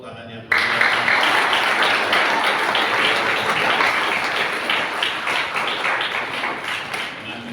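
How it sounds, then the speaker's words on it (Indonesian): Loud, dense applause erupts suddenly from an audience at an Indonesian BPD inauguration ceremony and continues steadily for several seconds, with no speech over it. "mari kita beri tepuk tangan yang meriah"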